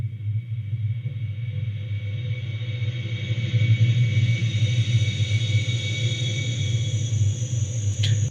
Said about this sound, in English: this is the sound of a spaceship passing by